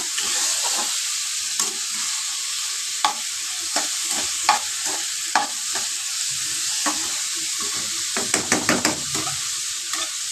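Bottle gourd peel frying with onion in a pan, a steady hiss of hot oil punctuated by repeated spatula stirring scrapes, turning into a quick cluster of clatters near the end.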